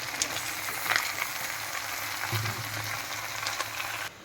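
Chopped vegetables fry in hot oil in a pan, giving a soft, steady sizzle at moderate distance with a few faint clinks and no talk.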